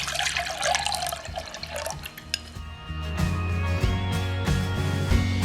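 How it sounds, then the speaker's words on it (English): Tamarind water poured into a jug, a wet gurgling splash at the start that gives way to steady liquid running and trickling, with faint background hum. "Pour the tamarind water into a jug."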